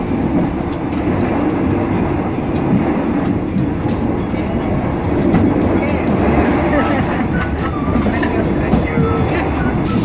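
Steady, loud rumble of an overnight sleeper passenger train to Chiang Mai rolling along the rails, with continuous low clatter and faint voices in the background.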